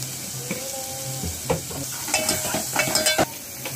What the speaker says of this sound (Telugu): అలానే మసాలా వేగుతా ఉన్నాయి అవే.